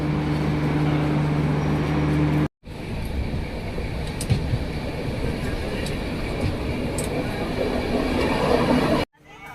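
The Jaipur Express, heard from inside a general coach on the Bangalore to Hindupur run, makes a steady, loud rolling rumble and rattle on the rails, briefly cut off twice.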